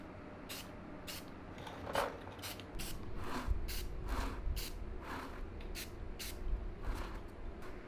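Short repeated bursts of spray paint hiss as mini bike wheels are coated white, each burst a second or less with brief gaps, fairly quiet and close.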